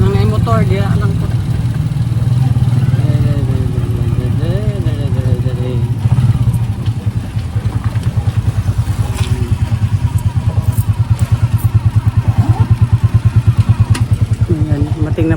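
A motorcycle engine idles close by with a steady, rhythmic putter and some clatter, while people talk over it throughout.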